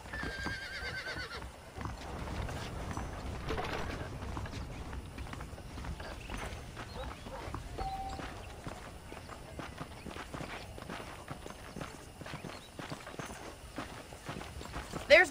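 Horses clip-clop around a ranch in the Red Dead Redemption video game, with a steady run of hoof beats, a whinny near the start and a character speaking over the game sounds.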